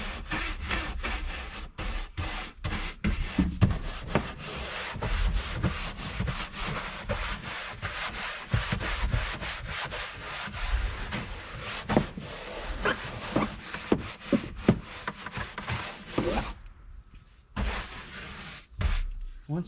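A brush scrubs a plastic car dashboard coated in cleaning spray, giving close, continuous rubbing strokes with brief pauses and a short quiet gap near the end, no voices.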